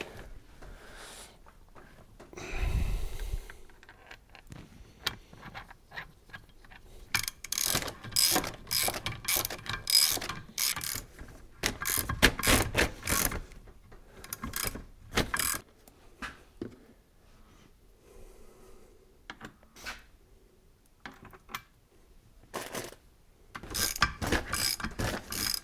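Parts of a Hitachi excavator hydraulic pump being turned by hand during a rebuild, close clicking ratchet-like bursts in uneven runs separated by quiet gaps.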